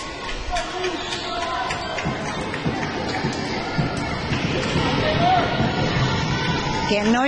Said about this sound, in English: Getting noisy in here. We have a big crowd for both of these two teams.